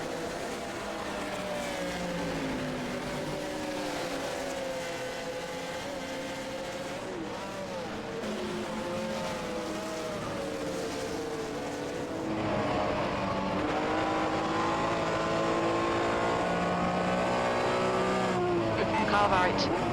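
Race cars at the Bridgehampton track in a 1964 World Sports Car round: engines wail continuously with shifting pitch and a nearby rival roaring alongside, growing louder midway, with a voice speaking over it.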